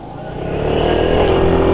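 Motorcycle running on a racing fuel additive accelerates with a rising, building engine roar that swells over the first second and then holds loud and steady.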